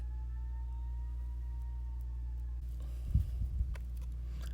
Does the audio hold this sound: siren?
yes